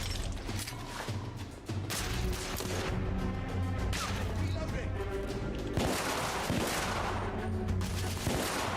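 Gunfire from the Victorian-era shooter The Order: 1886, a steady barrage of shots and battle noise filling the whole stretch, loud and dense, with a voice talking over parts of it.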